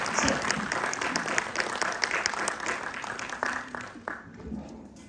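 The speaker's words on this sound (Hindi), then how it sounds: "एक बार जोरदार तालियां बजा के स्वागत कीजिए" Applause from a conference audience at a yoga event in a university hall, a dense burst of clapping that swells and then thins out over a few seconds, with a voice faintly underneath.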